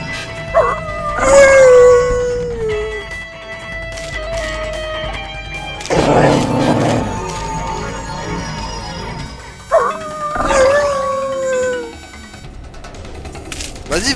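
Video game wolf cubs in Ark howl and yelp in rising, wavering cries, in two bursts separated by a noisy scuffle and quieter whimpers, loud and close.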